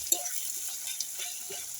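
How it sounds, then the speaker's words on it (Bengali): Onion frying in a pan, a soft steady sizzle with a few light stirring clicks, close and fairly quiet with no talk. "এই পেঁয়াজটা একটু ভাজা ভাজা হয়ে যায়"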